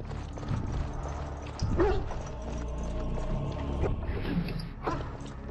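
Dogs barking in a Dragon Age fantasy game tower fight, several yips and barks mixed into busy battle sounds at moderate loudness.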